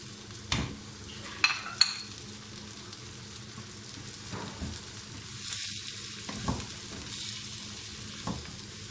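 Potatoes and spices frying in a pan with a steady sizzle throughout, punctuated by a few sharp clinks and stirring scrapes of a utensil against the pan.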